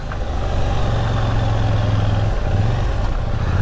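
A KTM 890 Duke R motorcycle engine running while riding in the rain, a loud steady low drone with a sustained hum that rises briefly mid-way, continuous and unbroken, with no voices.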